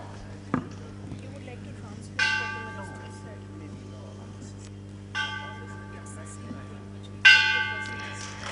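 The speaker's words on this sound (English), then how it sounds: "Ring the bell." A ceremonial bell is struck three times at a gathering, each clear metallic strike ringing out and slowly decaying before the next, preceded by a faint knock, with a quiet room in the background.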